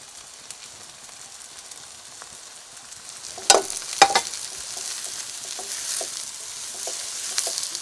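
Chopped onions, three of them, frying in hot oil for a chicken roast, with a steady close sizzle and intermittent stirring scrapes, including a couple of sharper clanks of the utensil against the pan midway.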